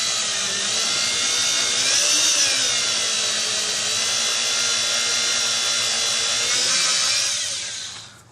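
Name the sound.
power drill driving screw into wood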